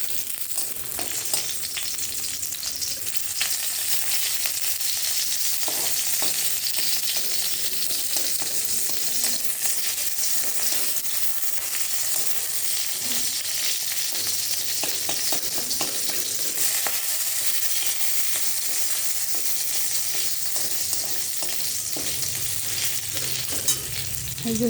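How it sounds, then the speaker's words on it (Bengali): Dried chillies, hing and a bay leaf fry in hot oil for a potato curry, giving a steady, close, bright sizzle with occasional crackles and stirring scrapes throughout. "এই যে শুকনো কাঁচা লঙ্কা, হিং আর তেজপাতাটা ভাজা ভাজা হয়ে গেছে।"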